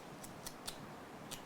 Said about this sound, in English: I've just snapped the end off the pencil with my blunt blade